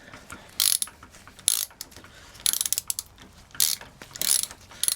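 Ratchet wrench loosening exhaust nuts on a Yamaha XJ400Z motorcycle, treated with penetrating oil: several short bursts of rapid clicking, close and fairly loud, with quiet pauses between them and no talking.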